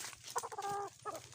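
A live chicken clucks close by, a few short throaty calls in quick succession with a longer drawn-out note in the middle, heard alone at low volume.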